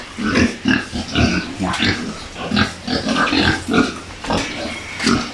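Pigs being bathed on a farm grunt and snort repeatedly at close range, in short irregular bursts that overlap one another.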